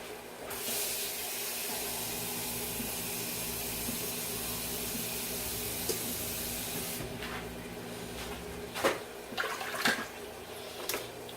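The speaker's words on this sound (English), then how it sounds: "And we need 4 cups of water." Water pours continuously into a cooking pot for rice, a steady hiss for about seven seconds, followed by a few clinks and handling noises.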